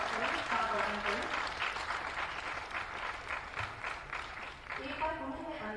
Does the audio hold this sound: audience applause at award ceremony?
yes